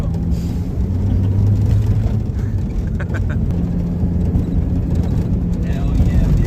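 Jeep XJ with a 5-speed manual transmission and 315,000 miles pulling away in first gear, a loud, steady engine and road drone filling the cabin, with people talking over it.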